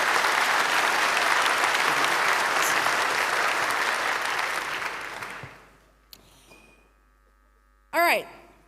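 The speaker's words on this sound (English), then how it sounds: "give them the huge round of applause." Loud, sustained applause from an audience that fades out after about five seconds, followed by a few brief electronic chirps.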